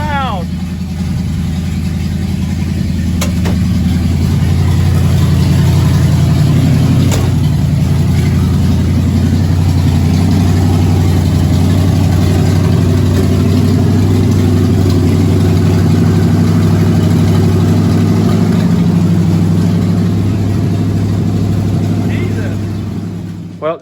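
A car engine fitted with new headers and an HEI distributor idles loudly and steadily up close for the whole stretch, a deep rumbling drone with some voices underneath.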